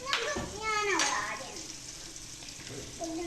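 Maggi noodles stirred into a pan of boiling water on the stove give a soft sizzling, bubbling scrape, with a voice speaking briefly over the start.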